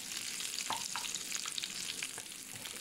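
Mustard seeds, curry leaves and green chili temper in hot oil for lemon rice, a soft continuous crackling sizzle with a few faint pops and spatters, fairly quiet and close.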